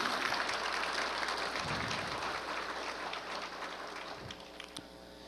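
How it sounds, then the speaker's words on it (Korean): Applause from staff and citizens at a 2013 Hwaseong city year-end closing ceremony, a broad continuous patter of many hands heard somewhat distantly in a large room, slowly tapering toward the end. "힘찬 격려의 박수를 부탁드리겠습니다"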